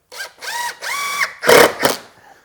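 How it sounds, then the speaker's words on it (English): A power driver sets a screw into a sink base cabinet in several short, loud whirring bursts that rise and fall in pitch, ending with a brief rattle. "So what you want to do is just screw this to here"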